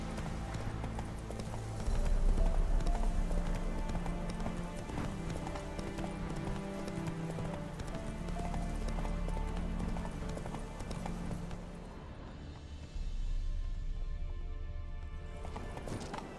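The horse Roach gallops in The Witcher 3, a steady rhythmic clip-clop of hooves under game music, with a brief pause before the hoofbeats resume.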